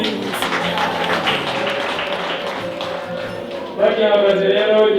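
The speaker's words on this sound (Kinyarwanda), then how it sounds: "bongera amashyi" Dense crowd applause fills the space, with voices rising over the clapping near the end.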